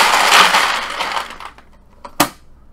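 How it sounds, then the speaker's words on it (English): Paper raffle tickets for a charity pinball machine drawing are shuffled back and forth, a loud dense rustle that fades over about a second and a half, followed by a sharp brief clink. "Okay, shuffling back and forth."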